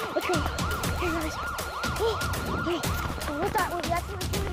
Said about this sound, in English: Sirens are on! Tornado's coming!